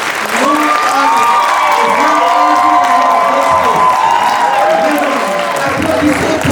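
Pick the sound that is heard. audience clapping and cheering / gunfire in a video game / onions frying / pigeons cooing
audience clapping and cheering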